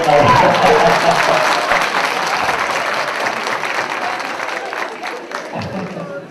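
An audience at a police-house event in Sinop breaks into loud, dense applause that gradually thins and fades.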